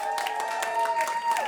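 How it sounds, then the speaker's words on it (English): Brief applause from an audience at a climate week event, the clapping running under crowd noise and voices. "Hey, keep that applause going."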